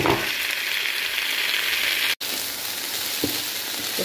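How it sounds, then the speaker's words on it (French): Potatoes and a mix of vegetables sauté in a hot pan with a steady, loud sizzle, broken once by a brief gap and a few soft stirring knocks. "Je fais revenir le tout pendant 2 minutes"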